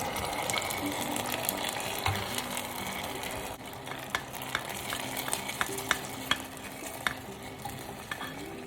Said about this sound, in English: Add the caramel to the payasam mix